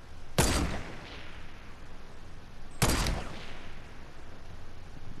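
Two sharp enemy gunshots in Fortnite, about two and a half seconds apart. Each is a loud, crisp crack with a short decaying tail over a quiet background.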